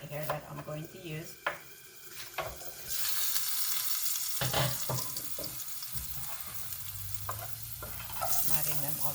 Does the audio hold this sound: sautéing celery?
yes